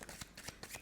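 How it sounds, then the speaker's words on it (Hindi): Tarot cards being riffled and shuffled by hand in quick, close, crisp bursts of flutter, several short pulses in under a second with no voices. "Final shuffle."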